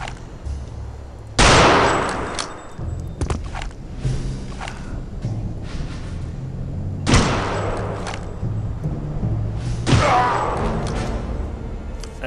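Sniper rifle fire in Return to Castle Wolfenstein sounds as three loud, sharp cracks spaced several seconds apart, each ringing out with a decaying tail, alongside smaller thumps and in-game noise.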